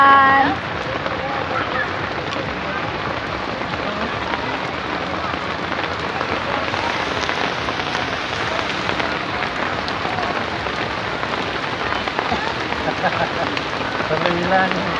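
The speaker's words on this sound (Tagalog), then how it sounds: "Lakas na ulan." Heavy rain pours down at a campsite during a camping outing, a dense steady hiss of drops drumming on surfaces that fills the whole stretch, with people's voices faintly under it.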